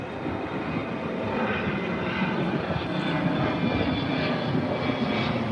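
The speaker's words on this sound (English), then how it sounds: "Got another flight coming overhead." A passenger jet flies overhead near Chicago O'Hare Airport with a loud, steady engine roar. The roar swells slightly as the plane passes and fills the whole stretch without speech.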